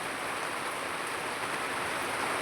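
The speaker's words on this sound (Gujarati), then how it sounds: "આજે કાલ કરતાં આજે વધુમાં વધુ વરસાદ છે" Heavy monsoon rain falls steadily near Gondal, a dense, even hiss with no breaks and no voices.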